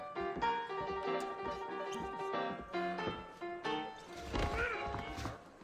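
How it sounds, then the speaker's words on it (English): Saddled horses in Red Dead Redemption whinny near the end of the clip, a loud drawn-out neigh rising over earlier clattering hooves and dense in-game sound. "I got the horses saddled up and ready out front."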